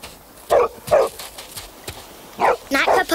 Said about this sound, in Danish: Nej, hvad pokker, din dumme hund. Nu kan de jo høre os.